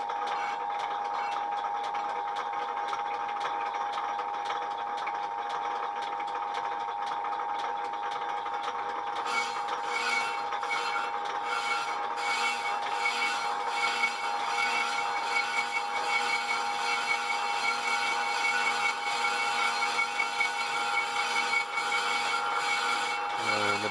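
Old lathe machining a Jeep Cherokee XJ front brake disc, a steady mechanical hum that turns into a rough scraping cut about halfway through as the tool engages the metal, continuing at moderate loudness.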